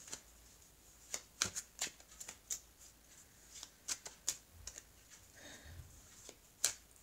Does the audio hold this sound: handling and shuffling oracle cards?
yes